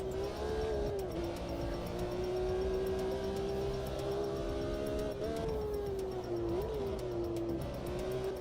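Simulated race car engine in a sim racing game, a steady loud drone with pitch rising and dropping in quick throttle blips as the driver manually downshifts into second and first gear, continuous throughout with no talk.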